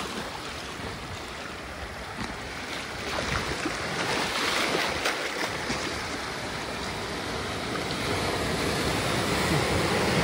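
Sea waves crash against the rocks at Chirala Rock Beach, a loud, continuous roar of surf and wash that swells slightly midway, with no voices.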